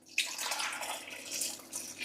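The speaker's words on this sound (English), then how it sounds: "I'm going to add some water" Water poured into a slow cooker holding chicken broth, onion and chunked carrot, a steady close splashing pour that runs throughout.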